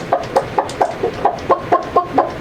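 A string-and-cup noisemaker gives a steady run of about a dozen rhythmic, squawking clucks, close and alone, much like a hen.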